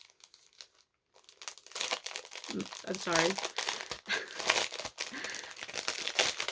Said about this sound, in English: if crinkling really drives you crazy